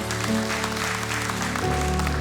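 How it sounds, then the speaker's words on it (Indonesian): Broad, dense applause from a church congregation during a worship service, with sustained music playing underneath, steady and loud throughout. "Berikan tepuk tangan buat Tuhan"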